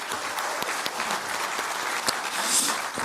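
Dense, steady applause from an audience at a political party gathering welcoming newly elected local and regional government heads, filling the whole stretch without talk.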